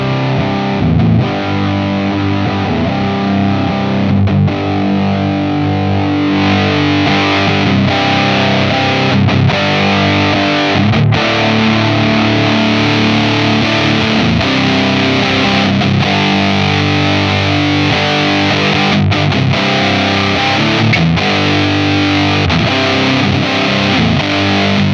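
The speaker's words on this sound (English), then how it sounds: "So here is the darkest setting on the XS distortion." An Old Blood Noise Endeavors Excess V2 distortion pedal set to its darkest tone drives a guitar, loud, thick sustained chords ringing continuously with brief rhythmic breaks between strums.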